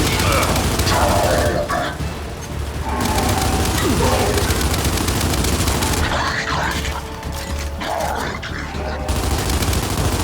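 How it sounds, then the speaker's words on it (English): A frag grenade explodes on an enemy nest in the video game Gears of War 5, a heavy boom buried in continuous loud gunfire and battle noise, with repeated blasts and rattling shots throughout. "Gotta get a frag in that thing! Throwing frag! Nest destroyed!"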